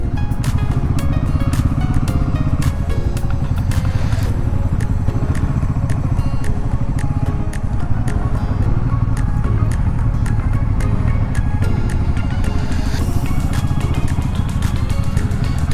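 A motorcycle engine idles steadily and close by while the bike is being parked near the last border area of Chitkul, a constant rumbling drone with occasional clicks and clatter, no talking.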